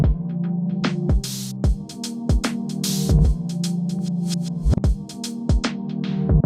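Sample-based beat from a Novation Circuit Rhythm groovebox, with punchy kicks and bursts of hi-hat and snare noise over a droning pitched bass layer, looping in a steady rhythm, loud and close.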